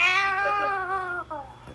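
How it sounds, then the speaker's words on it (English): A cat lets out a single long, drawn-out meow, close and clear, trailing off with a short second note at the end. "Did you hear that cat?"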